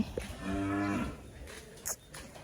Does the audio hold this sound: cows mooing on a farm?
yes